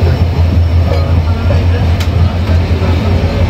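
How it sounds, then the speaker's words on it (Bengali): A train crosses the new Jamuna rail bridge in Bangladesh with a loud, continuous low rumble and rolling clatter close by, steady for the whole moment, with voices faintly mixed in. "এই ট্রেনের জন্য এতক্ষণ ধরে অপেক্ষা করলাম।"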